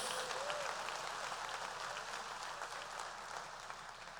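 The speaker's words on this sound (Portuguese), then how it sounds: "Você pode dar uma salva de palmas ao Senhor?" Steady, dense clapping from a church congregation fills the whole stretch, even and sustained without a break, fading only slightly toward the end.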